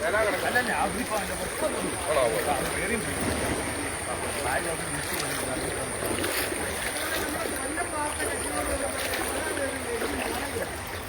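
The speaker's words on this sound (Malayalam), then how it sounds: "ബോട്ട് ഇങ്ങോട്ട് പോരുവാ." A boat drones steadily across floodwater during a Kerala flood rescue, with a constant rushing wash, and people talk over the noise.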